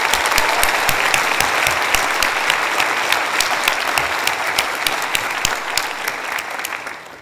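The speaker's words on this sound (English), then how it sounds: "So let's have another round of applause for those loved ones." Applause from a large audience at a law school commencement ceremony, continuous and full with distinct sharp claps standing out, tapering off slightly at the end.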